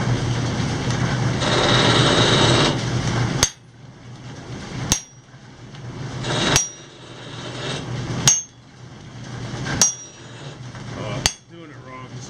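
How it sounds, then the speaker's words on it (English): A hammer strikes metal on an anvil in a forge while making tongs, five sharp ringing blows spaced about 1.5 seconds apart, each fading, after a stretch of noisy rushing sound. "I want you to stand over there and whack this hammer with this"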